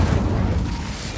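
Incendio fire spell cast in Hogwarts Legacy, a dense, loud burst of roaring, crackling flame filling the whole moment with a slight fade toward the end.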